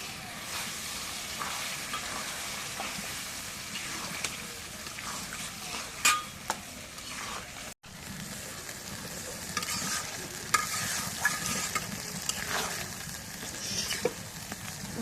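Broiler chicken meat frying with spices in a pan, a steady close sizzle with occasional stirring scrapes and brief clinks, continuous throughout.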